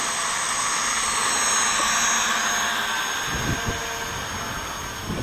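A Hubsan X4 Desire H502S quadcopter drone flies into a light wind outdoors, its steady high-pitched whine running continuously, with gusty wind buffeting the microphone toward the end.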